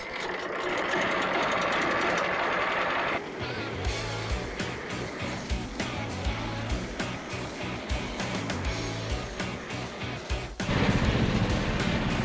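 A Frontier OS27 sawmill engine runs with a steady rhythmic chugging drone, close and loud, changing pitch partway through and surging briefly near the end.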